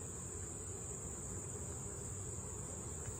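Around 300 honeybees in a hive box during a September inspection, with confectioner's sugar placed among them, making a continuous, faint buzzing hum with a thin high whine and no talking.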